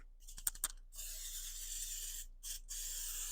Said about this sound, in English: We're going to spray some cooking spray in there.